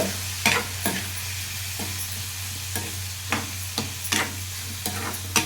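Boiled chana dal is stirred into a frying pan of coconut curry, a spoon clacking and scraping irregularly against the pan over a continuous low sizzle, close up with no talk.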